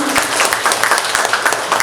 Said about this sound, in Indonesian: Mungkin tepuk tangan dulu untuk putra-putri kita semua.